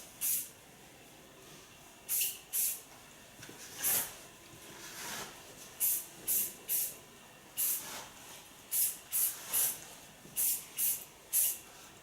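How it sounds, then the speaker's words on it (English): Flexible hairspray misted onto blonde hair during styling, a string of short, close hissing sprays coming in quick pairs and clusters against a quiet room. "Starting with flexible hairspray."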